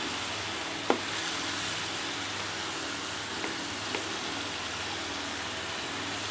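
Chili masala sizzles in a pan with liver and garlic, a steady dense hiss of frying oil with a few faint clinks of a utensil stirring, close and continuous throughout.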